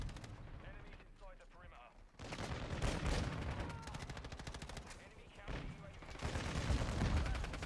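Sustained machine gun and rifle fire in Call of Duty: Modern Warfare 2 multiplayer, dense rapid bursts with heavy booms, loud and continuous for several seconds, with a voice partly mixed in.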